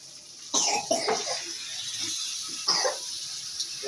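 Several sharp, close coughs break out at irregular intervals while a heavily spiced duck dish cooks, with faint kitchen noise underneath.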